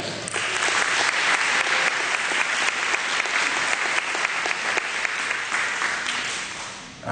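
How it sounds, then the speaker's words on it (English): A gala audience at a chamber of commerce event claps loudly and steadily, a dense wash of many hands that holds for several seconds before tapering off near the end. "I can tell the way they clap, they like that"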